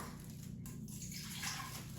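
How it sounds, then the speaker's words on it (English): Water pours steadily into an Instant Pot, a soft continuous splashing rush with low hum underneath, no talking. "add 1 cup of water to the Instant Pot"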